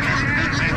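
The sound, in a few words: duck quacking at a market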